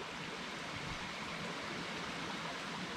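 Creek water flows steadily at Pine Creek Crossing, a soft, even rushing wash that stays constant and fairly faint throughout, with no voices.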